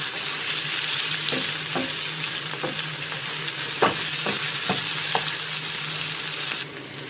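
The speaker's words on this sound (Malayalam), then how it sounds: "ഇതെല്ലാം കൂടി നല്ല ഹൈ ഫ്ലെയിമിൽ തന്നെ വെച്ചിട്ട് നന്നായിട്ട് ഇളക്കി കൊടുക്കുക." Chicken stir-fries on a high flame, giving a steady loud hiss of frying broken by several sharp scrapes and taps of a spoon against the pan, with no voices.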